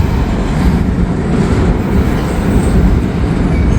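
A train rumbles slowly across a Cincinnati bridge, a loud, steady, close roar of rail wagons with faint rhythmic clacking and no voices.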